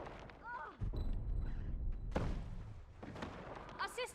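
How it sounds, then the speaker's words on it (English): Cannon fire striking the player in the online game Guild Wars 2 comes through as several heavy thuds and booms at irregular intervals, mixed with other short game sounds at moderate volume. "The cannon was what was hitting me."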